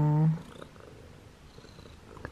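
A cat purring softly up close, a low steady rumble that follows a brief louder tonal burst at the start, then continues faintly and evenly with no talking.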